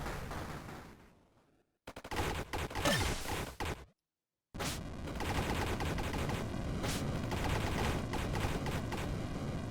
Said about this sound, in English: Looks like about 12 shots. It's a very, very cool gun.